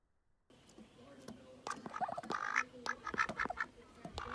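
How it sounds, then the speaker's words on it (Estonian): Friendly ducks quack and call outdoors in a series of close, rasping bursts that begin after a short silence and continue in an irregular rhythm. "Väga sõbralikud linnud on siin."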